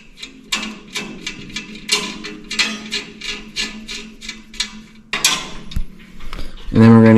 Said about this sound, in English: And then we can put our hardware back on.